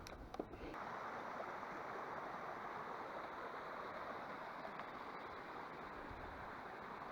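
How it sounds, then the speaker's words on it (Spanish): The Lambre river flows steadily beside a mill trail near Vilar Mayor, a continuous close rush of water with broadband hiss that holds even throughout, with no voices over it. "Aquí estamos, al lado del río."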